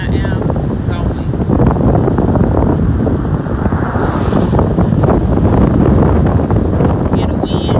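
Strong wind buffeting the microphone in stormy weather hours before Hurricane Delta made landfall, a loud, continuous roaring rush with gusty swells throughout.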